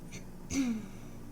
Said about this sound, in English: all I want you to do is cough for me. Just kind of like clear your throat.